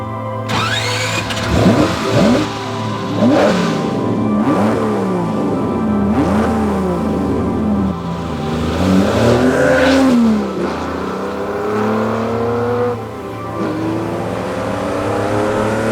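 A Ferrari 250 Testa Rossa revs hard while being driven, its engine rising and falling through repeated gear pulls and throttle blips, loud and close for the whole stretch with no talk.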